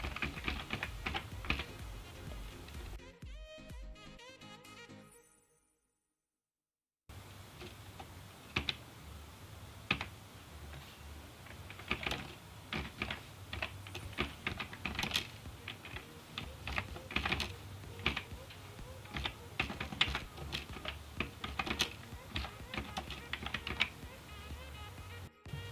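Rapid, steady clacking of fingers typing code on a computer keyboard, close and distinct, with a brief silent gap early on before the keystrokes resume in dense irregular bursts.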